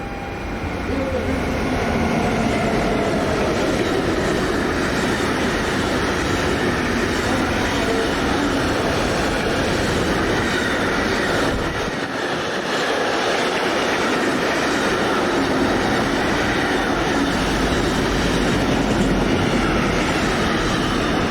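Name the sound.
intermodal freight train to Rotterdam passing, Class 193 locomotive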